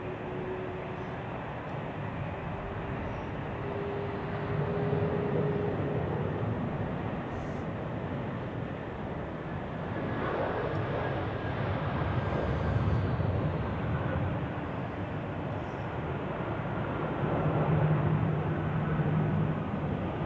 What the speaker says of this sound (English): Air Anka A330 lining up on runway 32.